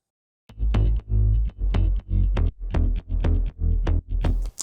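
Four layered electronic bass sounds stacked in a dance-track remake, pulsing in eight heavy, evenly spaced throbbing notes with sharp attacks and deep low end, loud and alone with no voices.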